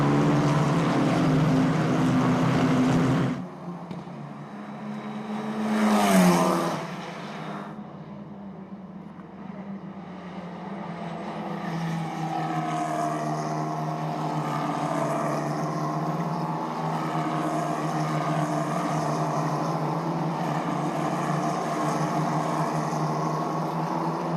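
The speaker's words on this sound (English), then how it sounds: "The Jeddah Corniche circuit open once again to the F4 Saudi Arabia Championship 2025, round 4, race 1, free practice session." F4 race cars in free practice at the Jeddah Corniche circuit: a loud burst of engine noise cuts off, a car whooshes past around the middle, then a steady, distant engine drone builds and holds.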